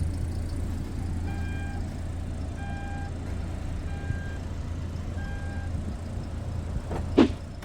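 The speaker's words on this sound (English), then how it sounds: "You can also close the trunk hands-free by kicking underneath the bumper." The power tailgate of a 2024 BMW X2 closes hands-free: a low motor hum runs under a series of evenly spaced warning chimes, finishing with a sharp latch thunk.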